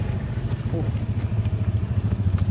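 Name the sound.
motorcycle riding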